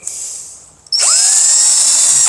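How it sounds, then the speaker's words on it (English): Power drill spinning up during a single-wide mobile home rot repair, a sharp high-pitched whine that starts abruptly after a brief quieter stretch and holds steady and loud to the end. "drill"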